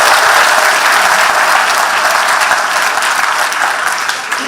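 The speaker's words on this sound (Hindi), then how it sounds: "तो जरा ताली वाली बजाओ, आगे बढ़ो।" A large crowd at a scholarship distribution event claps loudly and continuously, a dense, close roar of applause that tapers slightly at the end.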